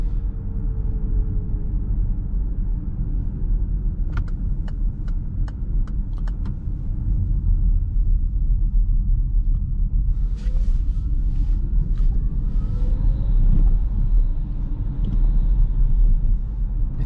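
A Peugeot e-208 Allure electric car with 136 HP accelerates and drives on, a steady low road rumble with faint motor whine and a few light clicks, heard from inside the cabin.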